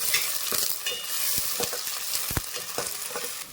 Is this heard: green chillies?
yes